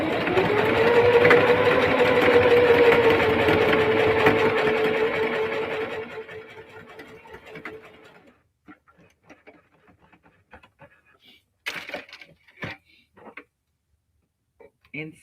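A sewing machine stitching denim onto clear vinyl, a loud steady whirring run that winds down and stops after about six seconds, followed by a few faint clicks and handling sounds.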